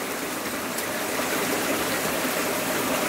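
Strong stream water rushing over and among rocks, a dense, steady roar that fills the whole clip at close range with no voices.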